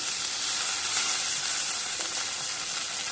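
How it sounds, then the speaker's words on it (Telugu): Potato pieces and green peas fry in hot oil for a tomato pulao, a steady close sizzle with a brief stir-like clatter midway and no talk. "మనం ముందుగా కట్ చేసి పెట్టుకున్న బంగాళాదుంప ముక్కలను, ముందుగా పెట్టుకున్న గ్రీన్ పీస్ని కూడా ఇందులో వేసేసుకోవాలి."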